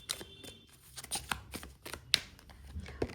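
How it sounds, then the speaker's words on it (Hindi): Tarot cards being drawn from a deck and laid out, soft papery flicks and light slaps in an irregular rhythm, close and quiet with no talking. "I will take 2 cards for pile number 3."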